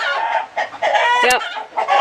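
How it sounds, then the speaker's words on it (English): Chickens in a barn cluck and squawk excitedly in repeated bursts, one sharp squawk standing out, close and loud. "Wow, chickens are noisy today. They are just having fits."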